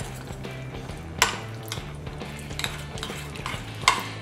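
Beaten egg being stirred into a chicken marinade in a metal bowl, with soft wet squelching and repeated spoon clinks and scrapes against the bowl, a couple of sharper clanks standing out.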